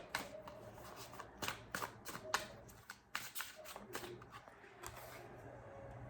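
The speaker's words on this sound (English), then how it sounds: "I saw this earlier when I was shuffling." Tarot cards being shuffled in quick bursts of crisp riffling and slapping, close up, with brief pauses between shuffles.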